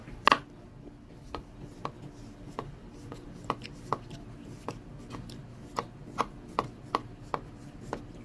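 A knife cuts through the thick peel of a pomelo, giving a series of sharp, close clicks and taps at an uneven, unhurried pace.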